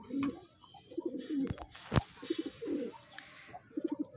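Andhra pigeons kept for sale in a loft coo repeatedly in soft, throaty rolls, close and steady, broken by a sharp knock or clap in the middle and light background hiss.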